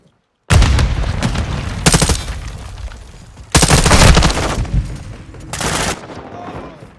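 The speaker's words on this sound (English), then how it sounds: "Throwing grenade!" Loud blasts and heavy gunfire in Call of Duty: Modern Warfare II, with a sudden explosive burst followed by sustained rattling shots and a second powerful eruption, close and intense.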